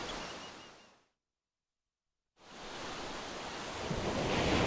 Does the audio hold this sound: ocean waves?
yes